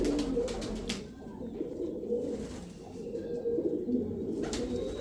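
Original Mirab pigeons coo in low, soft repeated calls over a steady murmur of background noise, moderately close, with a few faint higher chirps.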